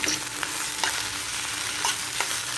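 Chopped banana flower frying in a pan with peanuts and onion, a constant close sizzle broken by several sharp spatula scrapes and knocks at irregular intervals, no voices.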